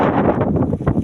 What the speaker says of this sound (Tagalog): Medyo mahangin lang dito guys.